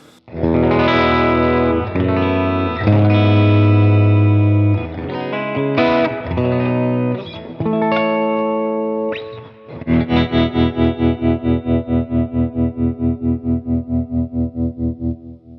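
A distorted electric guitar, an Eastman T386 semi-hollow on the bridge pickup, plays sustained chords and single notes, then ends in a rapid, pulsing tremolo-picked chord; loud and close, with no voices.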